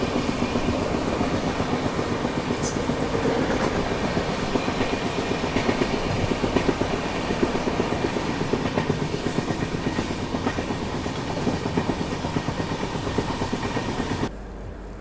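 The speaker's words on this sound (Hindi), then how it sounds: "हमारी ट्रेन का डिपार्चर मंचेरियल रेलवे स्टेशन से हुआ है" The Rapti Sagar Express rolls along after leaving Mancherial station, heard from onboard as a steady loud rumble with continuous rhythmic clickety-clack of wheels over rail joints, no voices.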